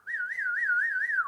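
A person whistles one sustained, wavering tone that rises and falls steadily for just over a second before dropping off at the end, close and clear with no talking.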